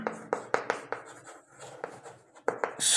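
A pen or pencil scratches across paper nearby in short strokes and taps, steady and close, with no voices.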